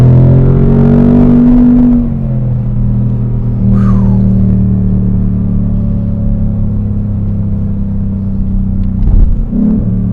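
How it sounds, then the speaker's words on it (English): A 2020 Ford Mustang GT with a 460-horsepower V8 accelerates hard, heard from inside the cabin as a loud, deep engine rumble that climbs in pitch, shifts, then holds a steady low drone. "that 460 horsepower launches this Mustang from 0 to 60 in about 4 seconds"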